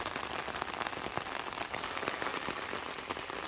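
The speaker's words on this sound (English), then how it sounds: "So this rain is perfect." Steady rain pours down over a backyard garden, a dense, even hiss of drops on surfaces filling the whole stretch without pause and with no talking.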